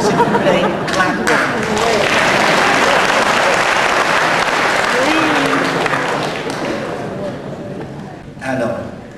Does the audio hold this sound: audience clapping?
yes